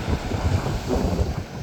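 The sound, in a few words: strong wind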